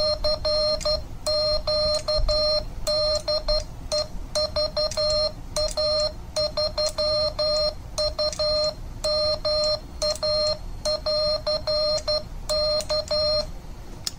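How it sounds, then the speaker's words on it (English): Morse CW tones keyed with an iambic paddle on a uSDX+ QRP ham transceiver: a clear, steady beeping tone in rapid rhythmic bursts of dots and dashes, with short pauses between groups and no voice. "And now I am in CW mode. I am in iambic. I'm using a key here."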